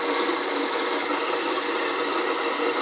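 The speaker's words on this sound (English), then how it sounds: "my phone is talking to both the grinder and scale, and we can basically do our grind by weight" An Acaia Orbit coffee grinder grinds beans by weight, giving a steady, close, dense whirring grind that holds at an even level throughout.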